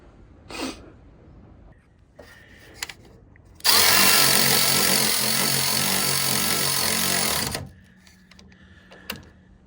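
A power tool whirs loudly for about four seconds while tightening a track rod nut on a Land Rover Defender Td5's steering, with scattered clanks and workshop noises before and after.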